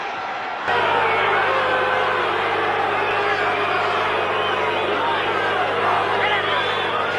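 A boxing arena crowd keeps up a loud, steady roar and murmur during a fight, with a commentator talking over it.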